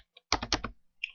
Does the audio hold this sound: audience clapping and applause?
no